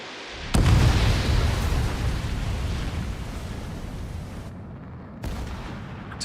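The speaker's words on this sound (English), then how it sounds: "missile launch." Missile launch in the combat flight game Ace Combat 7: a sharp loud blast followed by a long roaring rush that slowly fades, then a second abrupt burst near the end.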